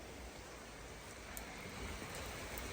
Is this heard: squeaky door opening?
no